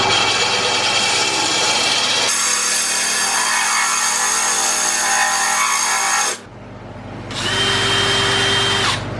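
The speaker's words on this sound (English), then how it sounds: "Usually, you're drilling downwards, and you use the weight of the drill." A power drill whines steadily as it bores through glass, stops briefly, then starts again; close and loud.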